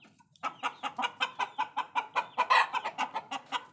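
Chickens and chicks cluck close by in a rapid, rhythmic string of short calls, steady and fairly loud with no other sound behind them.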